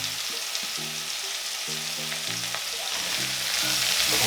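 Carrots and potatoes with curry powder are stirred in a pan, a steady broadband sizzle running throughout with a low rhythmic tonal hum underneath, gradually growing slightly louder toward the end.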